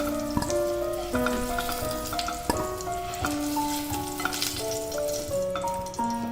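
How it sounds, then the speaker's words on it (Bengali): Potatoes frying in oil for a chicken dish, a steady crackling sizzle close up, with clear ringing tonal notes sounding over it in a stepping pattern, no talk. "আলুটাকে তেলের মধ্যে একটু ভেজে নিচ্ছি"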